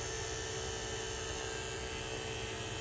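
A vacuum pump hums steadily while evacuating a Mitsubishi mini split line set in a travel trailer, giving a constant, dense mechanical drone with no breaks or voices.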